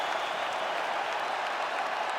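Arena crowd in the UFC 5 video game applauding and cheering after a fight goes the full 25 minutes, a dense, steady wash of clapping and crowd roar with no speech over it.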